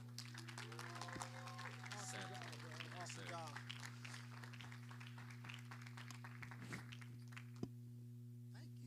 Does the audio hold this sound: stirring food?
no